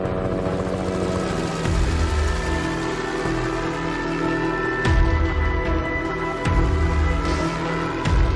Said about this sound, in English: The helicopter is airborne and they are igniting test fires at this time.